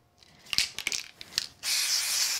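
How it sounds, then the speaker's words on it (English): A few short hissing bursts from an aerosol can, followed by one longer continuous spray, close by and fairly quiet. "So we'll just put these three on with a little bit of spray glue."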